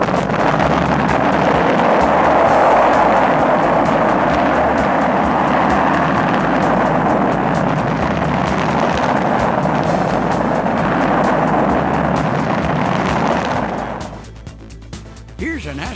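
A spaceship lifts off with a loud, steady roaring rumble that holds for most of the time before dropping away sharply near the end, leaving faint scattered noise.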